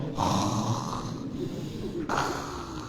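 A man imitates loud snoring during an Islamic religious lecture, giving two long, rasping snore-like breaths close to the microphone.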